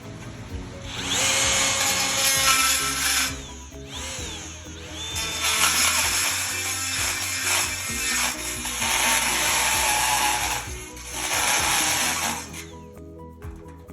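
A DeWalt power tool works new metal on a 1962 Chevrolet C-10 truck cab under restoration, running in several loud, sustained bursts of a few seconds each with short drops in between.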